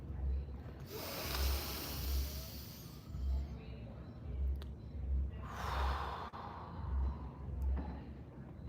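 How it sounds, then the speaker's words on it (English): Slow, deep breathing exercise: several long, low inhales and breathy exhales in steady cycles, close and fairly quiet, with no talk. "Let's breathe on this. Start as low as you can, like get pregnant with air"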